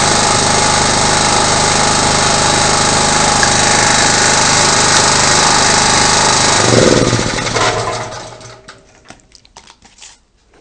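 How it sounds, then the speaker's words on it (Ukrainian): A generator rewound from three-phase to single-phase output runs with a loud, dense mechanical rattle and drone, steady and close, then winds down and stops toward the end. "Генератор саме головне запрацював."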